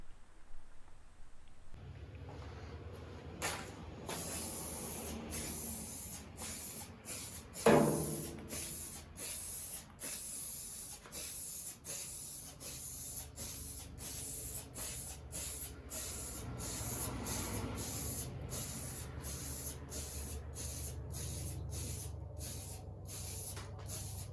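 A tool chest takes its second coat of spray paint, with a steady close hiss that stops and restarts between short bursts, and no voices present.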